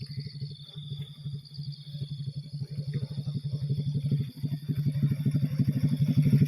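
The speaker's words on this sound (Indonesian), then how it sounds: "Ini ada motor lewat lagi" A motorcycle engine hums along a road at the far western tip of West Java, its low pulsing drone steady and slowly swelling as it approaches, with insects or crickets buzzing faintly in the background.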